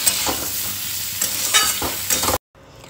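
Slit green chillies and turmeric sautéing in a pan, a loud close sizzle with bursts of stirring scrapes over a steady high kitchen-chimney hum, ending abruptly.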